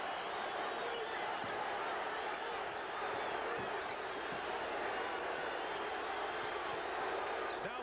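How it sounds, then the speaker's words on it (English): Basketball arena crowd on its feet during a 1987 NBA Eastern Conference Finals game between the Detroit Pistons and Boston Celtics, a steady dense roar filling the whole stretch at low level. "the crowd on its feet"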